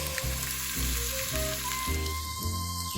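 Garlic sizzles steadily in a hot pan, a dense crackling fry heard up close under a layer of music with no talking.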